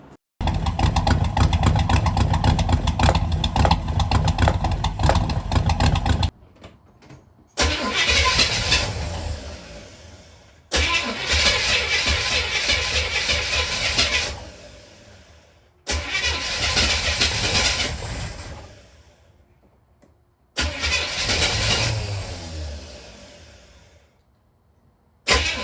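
A 1960s Chevrolet SS Nova engine, running rough after a carburetor fix, fires and runs loudly in several separate bursts of a few seconds each, sputtering and cutting out with short silences between attempts.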